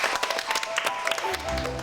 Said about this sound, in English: All of you deserve a good round of applause.